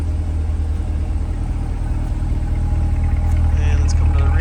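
A 2021 Corvette C8 2LT idles with a deep, steady exhaust rumble close by, a constant low throb that grows slightly louder toward the end, with faint higher squeaks near the finish.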